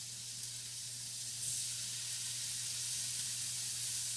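Steady sizzling hiss of shrimp frying in a hot pan over medium heat, rising slightly as more goes in, with a low hum underneath; no talking.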